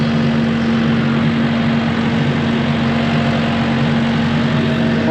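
A tractor engine idles on a sheep farm, a steady low droning hum with a constant tone that holds unchanged and fairly loud for the whole stretch, with no voices.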